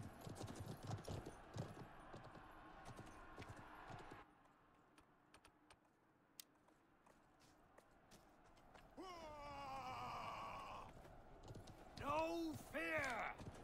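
Horse hooves clip-clopping in the Conqueror's Blade siege battle game, a busy rhythmic patter with clattering combat noise and voices mixed in, fading to quieter ambience midway before louder sounds return.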